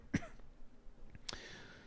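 Two short, quiet coughs, one near the start and another about a second later, sound over a faint background hiss with no talk.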